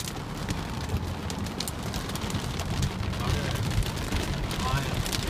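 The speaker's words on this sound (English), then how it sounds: "You just hear the water coming down and the hail up in the car" Heavy rain and hail pound a car during a flood, a dense, steady roar of drumming impacts with scattered sharper hits, close and continuous throughout.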